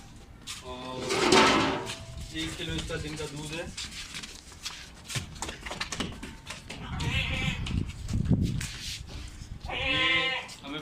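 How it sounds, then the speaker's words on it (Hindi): Dairy goats bleat several times at a livestock market, loud and close, with wavering calls scattered between bursts of nearby talking and some rustling. "ये माशाल्लाह दूध वाली बकरी है"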